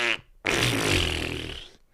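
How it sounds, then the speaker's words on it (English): A single loud, drawn-out fart sound rasps for well over a second after a brief earlier burst, with no talk over it. "She farts as well."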